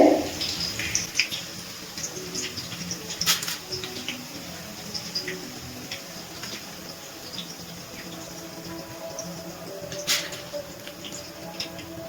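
Thin gram-flour batter drips into hot oil while mihidana, a Bengali sweet, fries: a steady soft sizzle with scattered small pops and crackles, close by and fairly quiet.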